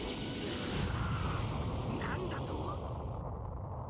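A deep, booming video game energy blast from Dragon Ball Sparking Zero rumbles and roars with a crackling, artificial edge, sustained loudly for several seconds before fading slightly.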